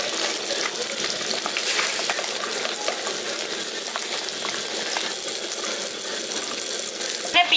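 Pabda fish frying in hot oil, a loud steady sizzle with bubbling crackle and occasional clinks as pieces are lifted out, continuous and close.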